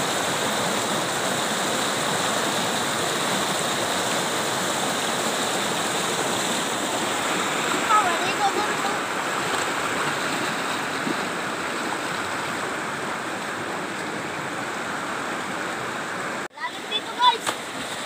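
Strong river current rushing steadily and loudly at close range, a continuous broad wash of water throughout, with a brief disturbance and splashing near the end.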